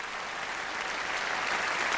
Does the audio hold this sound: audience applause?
yes